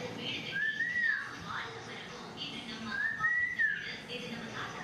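A grandfather whistles for a baby in two soft, rising-and-falling whistled notes, faint against a noisy room.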